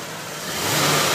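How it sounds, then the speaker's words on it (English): A 1991 Corvette V8 engine runs close by, its smooth, steady drone swelling slightly louder as it revs up a bit. "strong V8 engine, running good and clean for you"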